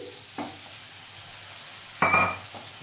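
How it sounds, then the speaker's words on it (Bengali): Poppy-seed paste water hits a hot pan of tomato and spices for a Shillong fish curry, giving a brief loud sizzling burst after a quieter stretch of faint frying. "এই যে পোস্ত বাটার জল আছে, এই জলটাই আমি দিচ্ছি"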